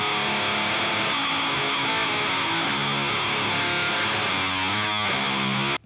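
Electric guitar run through a fuzz effect on a Line 6 HX Stomp, a dense, saturated buzzing tone with sustained chords, loud and continuous with no talking, cutting off abruptly at the end.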